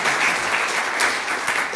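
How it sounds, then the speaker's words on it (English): Audience applause at a networking conference session fills the space between speakers, a thick, continuous patter of many hands that stays loud and even for the whole stretch. "I think another hand of applause, please"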